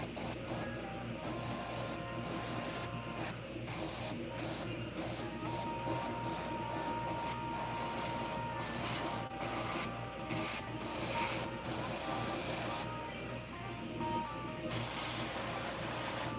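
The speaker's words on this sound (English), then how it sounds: "And of course spray into the joints." Airbrush-style spray painting a big fishing bait, working paint into the joints for a weathered look: a steady, close hiss of spray running continuously with brief gaps and pulses.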